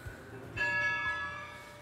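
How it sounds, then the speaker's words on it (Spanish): A bell on the Sabana tourist train is rung once, a clear ringing metallic tone that rises suddenly and slowly fades, close by and alone. "Voy a tocar la campana."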